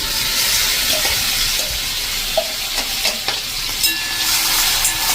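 Turmeric, ginger, chilli and garlic, with cumin and asafoetida, sizzle steadily in hot oil for a bottle gourd dish, a loud continuous frying hiss with small crackles and pops throughout and no talking.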